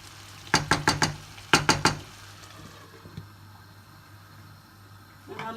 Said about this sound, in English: Then I'll just give it a little stir